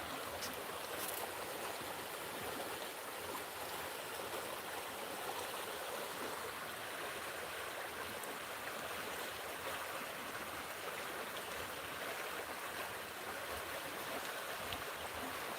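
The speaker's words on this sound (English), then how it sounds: "So this river," A river in a Kenyan forest, fed from the Aberdare mountains and passing Limuru, rushes steadily with a broad, even wash of flowing water, continuous and fairly close, with no talking over it.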